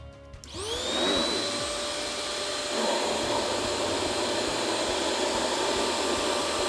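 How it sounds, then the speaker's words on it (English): A Riccar Tandem Air upright vacuum cleaner starts up and runs with a loud, steady whirring roar and a high-pitched whine that holds constant throughout. "You can see the debris just flowing right towards the air path and into the vacuum cleaner."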